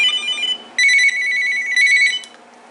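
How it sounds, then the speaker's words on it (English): Clatter ringtone on a Uniden EXAI978i phone: a bright, high electronic melody that plays in repeated bursts with brief pauses, close and clear with no talk over it. "the clatter ringtone is actually pretty good"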